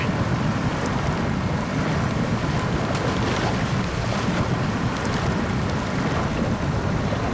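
A boat speeds up a river in the video game Expeditions, a steady loud rush of wind and churning water with no break across the whole stretch.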